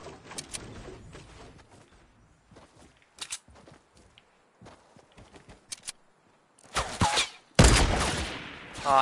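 Scattered gunshots in the Fortnite video game, with a few sparse pops early on and louder, sharper bursts of fire near the end.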